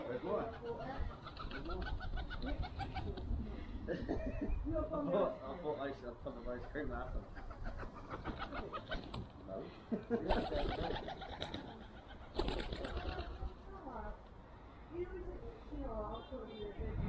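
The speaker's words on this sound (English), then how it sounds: "Feeding my pigeons." Pigeons being fed at their loft coo and murmur in repeated soft calls close by, with a person talking intermittently over the birds.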